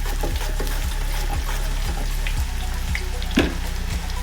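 Raw banana slices drop straight into hot frying oil, a steady bubbling sizzle punctuated by regular thumping strokes from the slicer at roughly half-second intervals, with no voices.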